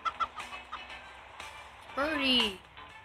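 In the video game Turbo Dismount, a chicken gives a few short clucks and then a longer squawk, near and fairly clear, with someone speaking nearby.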